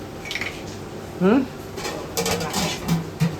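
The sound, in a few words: covering the biryani pot with a lid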